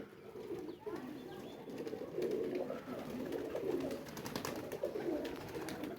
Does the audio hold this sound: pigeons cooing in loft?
yes